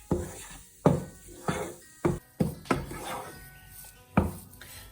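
Metal spoon scraping and knocking against a pan while gram flour roasts for besan halwa with jaggery, giving about seven sharp, close scrapes and taps at an irregular pace over a low sizzling rustle, with no talk.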